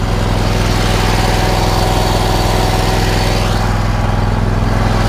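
A Hustler Raptor Limited zero turn mower engine runs steadily and loudly at close range, a constant droning idle with no talking over it.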